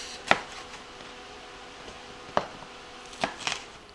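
A knife cuts chicken fajita strips in half on a board: three or four sharp, sparse taps and chops, close and fairly quiet, with no talk.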